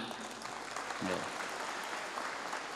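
Applause inside a large mosque during a religious gathering, a faint, diffuse spread of clapping from the congregation with a brief voice surfacing in the middle.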